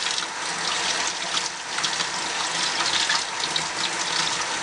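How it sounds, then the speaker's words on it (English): Steady running tap water splashing over a small makeup brush being rinsed in a sink, a continuous close hiss and patter with no talking. "rinse it well, and it's back to being clean."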